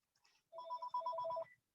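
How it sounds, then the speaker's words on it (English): An incoming call rings on a phone during an electric vehicle association meeting, a short electronic ringtone pattern of repeated tonal pulses about a second long, moderately loud and close, with no talk over it. "That phone call from Sierra Club"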